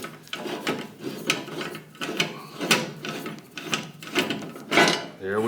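Threaded part being turned off the end of a shaft on a rusty vintage Craftsman 6-inch Model 103 jointer, left-hand thread: repeated close scraping, rasping strokes with small metallic clicks, steady and rhythmic with brief pauses.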